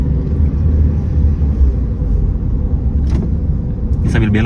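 A manual car accelerates after shifting into third gear on a main road during a first driving lesson, its engine and road rumble droning steadily from inside, with brief voices toward the end.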